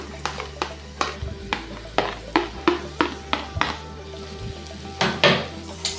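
Two chopped onions are stirred in a pan for a chicken curry, with a spoon repeatedly scraping and knocking against the metal in an uneven rhythm over a soft sizzle.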